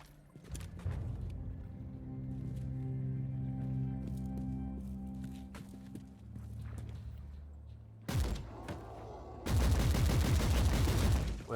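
Gunfire crackles from a ranged heavy character in the Warhammer 40,000: Inquisitor – Martyr action game, with game ambience before dense bursts of shots near the end of the clip.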